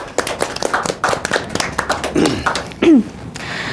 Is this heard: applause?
yes